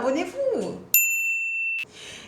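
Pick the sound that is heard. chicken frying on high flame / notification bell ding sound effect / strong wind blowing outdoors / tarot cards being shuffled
notification bell ding sound effect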